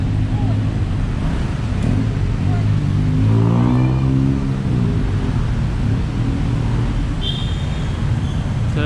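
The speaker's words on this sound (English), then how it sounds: "I just came across this busy road now." Busy road traffic at night in Bangkok, a steady low roar of passing cars and engines with one vehicle rising louder mid-way as it goes by close, and a brief high squeal near the end.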